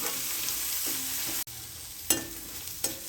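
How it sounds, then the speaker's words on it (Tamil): Finely chopped brinjal sautéing in a pan for a coriander chutney, a continuous bright sizzle broken by a brief drop, with several scraping spatula strokes close by and no voices. "நல்லா எல்லாத்தையும் கத்திரிக்காய் இதில் முக்கால்வாசி வதங்குற அளவுக்கு நல்லா வதக்கி விட்டுக்கிடுவோம்"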